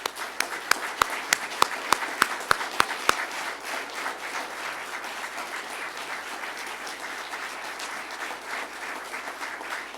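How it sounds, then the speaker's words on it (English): An audience at a firefighters' promotions ceremony claps as a round of applause for an honoree, starting with a few distinct claps and swelling into steady, dense clapping that carries on throughout. "give him a round of applause."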